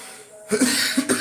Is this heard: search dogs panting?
no